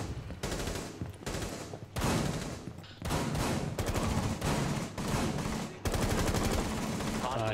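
Gunfire in the video game Rainbow Six Siege, loud rapid automatic bursts in quick succession, with only short pauses between volleys and faint voices underneath.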